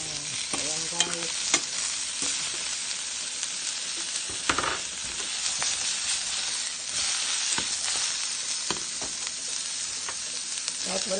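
Vegetables and a little pork stir-fry in a hot pan with a continuous loud sizzle, punctuated by occasional scrapes and clatters of stirring.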